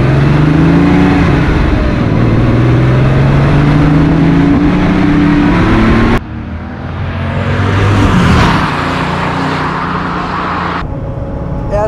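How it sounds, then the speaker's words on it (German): A 1989 Porsche 911 3.3 Turbo Cabriolet with a five-speed gearbox, heard from inside, accelerates hard past 4000 rpm with a loud, sustained engine roar that rises in pitch, dips briefly at a gear change, then keeps pulling. "ab 4000 Umdrehungen, wenn man da drauf tritt, da geht der Turbo richtig zur Sache"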